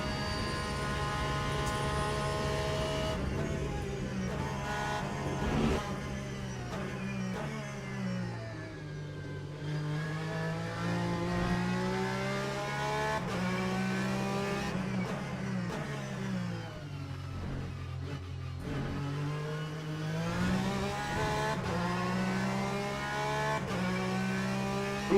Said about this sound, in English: here comes the hypercars